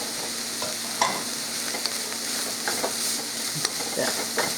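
Four cloves of garlic sizzle in a pan of sweated onions and vegetables while a utensil stirs and scrapes, with steady frying hiss and scattered clicks of stirring at close range.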